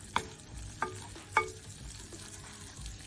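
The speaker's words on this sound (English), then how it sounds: "Now I'll cook the vermicelli until it turns brownish." Vermicelli frying in butter in a pot gives a soft, faint sizzle, broken by a few sharp scraping knocks of a stirring utensil against the pot.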